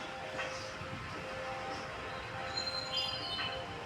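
A train rumbling along the rails with a faint metallic squeal and a high whine near the end, heard at moderate distance with no talking.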